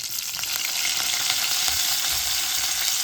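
Curry leaves fry in hot oil with a steady, bright, close sizzle that holds evenly for a few seconds, with no voices.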